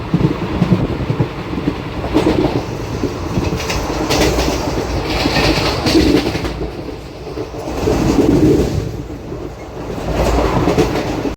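Palnadu Express rolling steadily at speed on its tracks, heard from inside a 3AC coach, with a continuous loud rumble and clickety-clack of wheels swelling and easing throughout.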